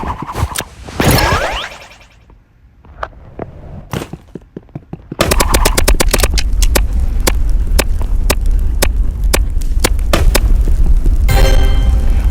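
Flare gun shots in a video game: a quiet stretch, then a run of sharp, loud repeated cracks and booms close up, with whooshing bursts near the end and no talking.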